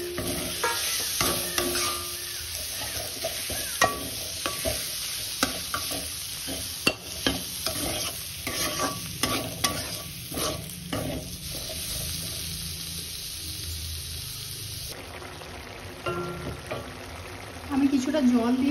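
Chunks of bottle gourd and potato sizzle in a pan with ginger, cumin and coriander paste, stirred over and over with scraping strokes. Steady frying hiss runs throughout, briefly under a voice.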